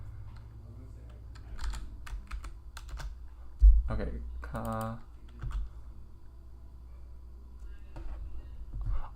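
Computer keyboard typing during a language study session, soft irregular key clicks scattered through the clip, close and fairly quiet, with someone briefly talking over it.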